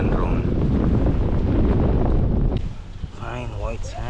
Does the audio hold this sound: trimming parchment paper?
no